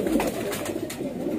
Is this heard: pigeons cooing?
yes